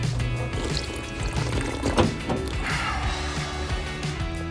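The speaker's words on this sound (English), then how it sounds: "Beering Hall, Purdue University, water fountain." A water fountain running in Beering Hall at Purdue University, heard as a steady close stream of splashing and trickling water with small gurgles and a faint indoor hum, no voices.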